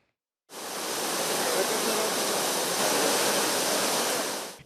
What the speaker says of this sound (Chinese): 尽管中溪河水有小可较低啊，不过水势依然是真灿流，声势真惊人